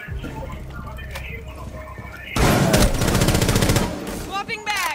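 Rapid shotgun blasts during a video game firefight, a dense burst of loud repeated shots after a quieter stretch, with a player talking over the action.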